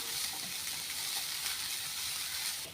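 Coconut roasting in a pan for a spicy mutton gravy gives off a steady, faint, hissing sizzle that stays even and unbroken, with no voices over it.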